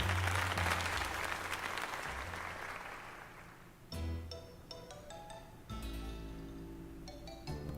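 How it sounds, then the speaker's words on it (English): In the video game Pokemon Legends Z-A, dense, loud applause at a tournament fills the opening seconds and fades away, giving way to light background music. "Now then, let's give another heartfelt round of applause to Justin."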